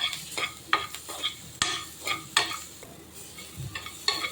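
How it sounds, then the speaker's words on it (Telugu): Ginger, garlic and green chili paste fries in a pan with onions, a soft sizzle punctuated by a handful of sharp spoon scrapes and knocks against the pan, close up, with no speech. "ఒక స్పూను అల్లము, వెల్లుల్లి, పచ్చిమిర్చి కలిపి పేస్ట్ చేశాను కదా, అది వేసాను. ఇది కూడా బాగా ఫ్రై చేసుకోవాలి."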